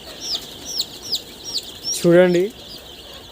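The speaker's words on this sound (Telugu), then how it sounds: "ఇప్పుడైతే ఒక కోడి పిల్లని బట్టి చూపిస్తా." A Sonali breed chick held in a hand peeps in a string of short, high, rising chirps, close and clear, and someone speaks briefly partway through.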